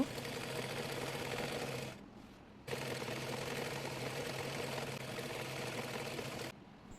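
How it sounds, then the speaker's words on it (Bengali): A sewing machine runs steadily stitching a petticoat's belt fabric onto the reverse side of the lower panel, a continuous close whirr with a short pause near the two-second mark and a brief stop near the end. "এরপর বেল্টের কাপড়টি পেটিকোটের নিচের অংশের কাপড়ের উল্টো দিকে রেখে সেলাই করে নেব"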